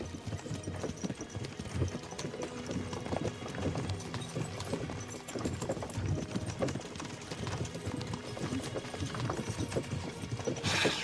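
Horse hooves clip-clopping in the video game Kingdom Come: Deliverance II, a steady run of hoofbeats with faint creaks and rattles from harness or cart, near and fairly loud throughout.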